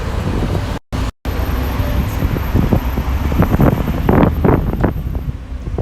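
Wind buffeting a microphone on an outdoor spring walk through Chicago's Uptown neighborhood, heavy low rumble gusting throughout, with faint street traffic beneath and two brief dropouts near the start.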